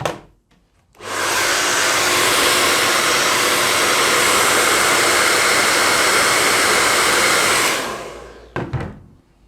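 A handheld hair dryer switches on with a click and blows a loud, steady roar of rushing air for about seven seconds, then winds down and stops, followed by a few handling thumps.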